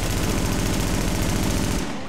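Rapid automatic gunfire from a rifle in the shooter game Tom Clancy's The Division, a dense continuous burst of shots that stops abruptly near the end.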